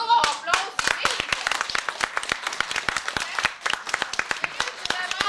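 Audience applause at an outdoor village day celebration, a dense burst of many hands clapping steadily and fairly close, continuing throughout without talk.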